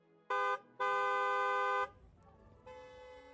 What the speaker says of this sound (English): Unclear who's honking at who.